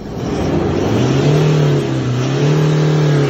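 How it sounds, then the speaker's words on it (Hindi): A 2022 Toyota Revo (Hilux) pickup engine revs up close, pitch climbing then dipping briefly before rising again in a loud, steady roar with no talk. "जरा रेस दे जाने मन।"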